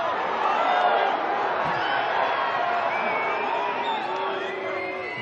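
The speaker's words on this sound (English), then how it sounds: "And the German crowd booing because they felt there was a foot in there." A German crowd at a women's ice hockey world championship final against the Netherlands roars and boos in a steady, dense wash of voices with whistles rising above it.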